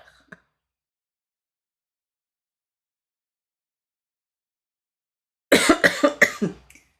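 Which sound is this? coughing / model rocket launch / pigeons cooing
coughing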